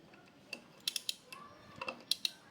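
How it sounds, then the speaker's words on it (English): A wrench ratchets as a bolt is loosened on a BMW G310GS motorcycle, with a series of sharp metallic clicks and ticks in irregular bursts, close and fairly faint. "So all we need to do is just to loosen the bolt."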